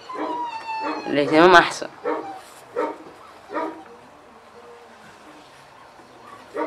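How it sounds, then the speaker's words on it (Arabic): A small dog whimpers and gives a few yips and barks while being lifted off the ground and carried indoors, one loud burst of cries followed by softer intermittent whines, with people talking over it. "شالت الكلب من الارض دخلت بيه"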